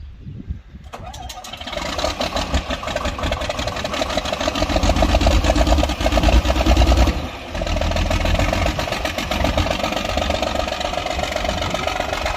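John Deere 4630 tractor engine cranking and catching, then settling into a loud, steady diesel idle with a brief dip partway through, heard close.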